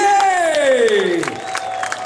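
Spectators at a beach volleyball match in Moscow, Russia against Australia, clap and cheer as a steady crowd roar, with a loud sliding horn-like tone fading out partway through.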